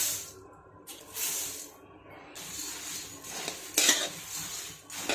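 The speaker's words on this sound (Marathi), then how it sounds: "कढई तापलेली आहे आणि याच्यामध्ये आपण मुरमुरे परतून घेणार आहोत." Puffed rice is stirred and roasted in a hot kadhai, making close, intermittent scraping, rustling and metallic clinks of a spoon against the pan.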